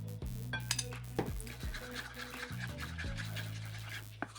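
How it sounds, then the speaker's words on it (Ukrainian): A spoon scrapes and clinks against a bowl while stirring khachapuri dough, with irregular knocks and a low mechanical hum underneath. "Все перемішую ложкою"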